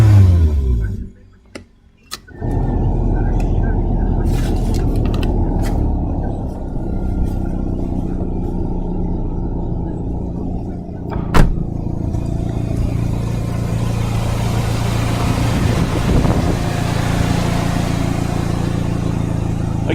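A 2003 Geo Tracker engine idles steadily, then rises in a throttle blip with a sharp bump before settling into a loud, sustained running rumble, with a brief quiet stretch near the start.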